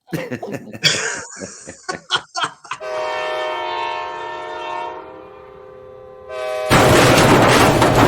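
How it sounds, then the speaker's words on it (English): A train horn sounds in a long, steady tonal blast that ends in a burst of loud rushing rail noise, preceded by people coughing and laughing nearby. "Chrissy, play the train crash"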